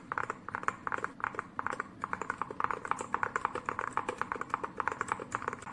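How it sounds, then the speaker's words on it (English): Steady typing on a mechanical keyboard with a muffled, deep tone, keystrokes clattering in a quick, continuous rhythm, close and alone. "Here, I can also show you the typing sound performance of this keyboard."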